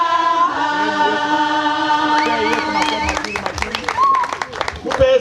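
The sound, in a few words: congregation applause at ordination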